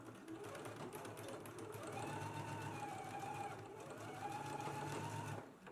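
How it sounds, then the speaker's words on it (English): A sewing machine stitches a 5/8-inch seam along the short ends of a garment extension. The motor hums steadily and continuously at close range for the whole stretch, with a faint rising whine partway through. "we are going to stitch at a 5/8 of an inch seam allowance along the short ends"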